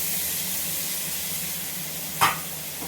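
Onions and potatoes frying with spices in a pan give a steady, soft hiss of sizzling throughout, broken near the end by one brief louder burst of spatter or stirring.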